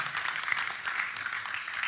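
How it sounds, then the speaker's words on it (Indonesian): A church congregation applauds drama performers after their play, a dense, steady wash of many hands clapping that holds evenly throughout without pause. "Kita beri tepuk tangan bagi pemain drama."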